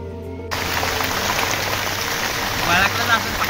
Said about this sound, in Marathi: पाऊस एवढा पडतोय ना मित्रांनो